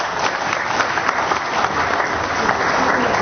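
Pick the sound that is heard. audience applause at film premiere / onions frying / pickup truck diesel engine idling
audience applause at film premiere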